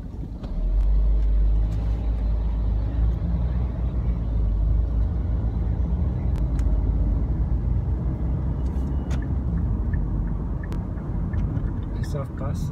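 A continuous low engine rumble from a car driving in Sydney's central business district, with bus and car traffic around it and someone talking over the steady drone.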